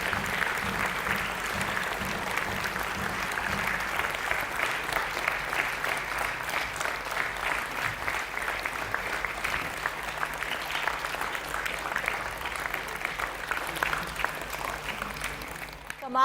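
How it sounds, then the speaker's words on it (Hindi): Sustained applause from an audience welcoming Lok Sabha Speaker Om Birla at a children's session of the Rajasthan Vidhan Sabha, dense steady clapping filling the hall throughout with a faint murmur underneath. "जोरदार तालियों से हम आपका स्वागत और"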